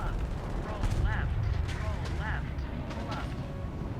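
In the War Thunder jet combat video game, an F-16's cannon fires short bursts that strike an enemy aircraft, with sharp repeated gunfire cracks over constant engine roar, and someone speaks over the action.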